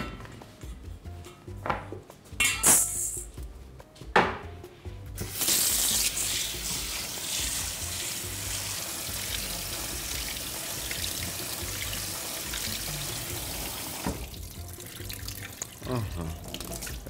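Grains of achar (wheat) rinsed in water in a pot for pilaf, with tap water running into the pot and swishing, sloshing and clinking against the metal at close range.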